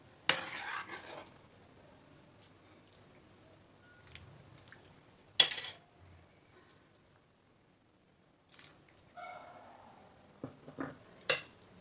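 Spoon stirring thickened milk with cardamom and milk powder in a pot for Odia chenna payesh, a few soft scraping strokes and clinks scattered among quiet gaps, close but faint.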